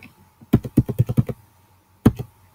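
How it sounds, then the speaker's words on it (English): Keys on a computer keyboard are tapped in a quick run of about eight strokes, then a short pause and a second brief burst of two or three, crisp and close with no talk over them. "We will type USA"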